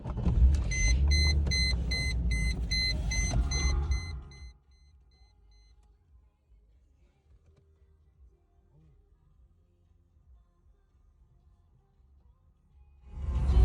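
Mercedes SL500 R129 roadster on its first ride, a close engine rumble with high chiming beeps for about four seconds, then near silence with faint low hum before the engine noise swells again at the end.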